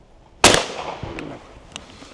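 A single shotgun blast at an outdoor clay shooting range in Sweden: one sharp, loud bang whose echo rolls away across the open range. A few faint clicks follow, and no one speaks.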